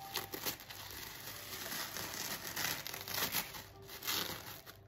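Continuous crinkling and crackling of paper being handled and torn, with irregular bursts of rustle throughout, close by.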